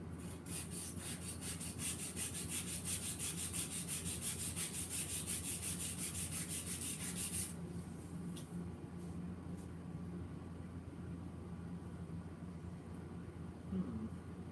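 Coarse sandpaper scrubbed by hand in quick, steady back-and-forth strokes, loud and rasping for several seconds, then easing to a softer rub.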